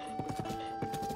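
A ridden horse's hooves clip-clop in a quick irregular rhythm in Zelda: Tears of the Kingdom. The steps are soft and close, with a thin steady game tone underneath.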